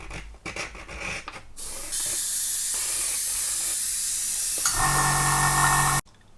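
A Gaahleri Mobius 2 airbrush sprays plain water in a steady, bright hiss lasting several seconds, with a shift in tone partway through before it cuts off sharply, preceded by faint clicks and handling.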